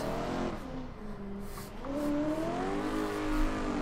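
A drift car pushed through a tight inner loop in fourth gear at a drift practice session, its engine holding a steady, loud droning note that dips briefly and then climbs in pitch as the revs rise.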